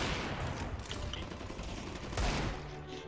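Gunfire from a video game, including a Scout sniper rifle shot, sounds in a dense, noisy stretch with a sharper loud crack about two-thirds of the way through.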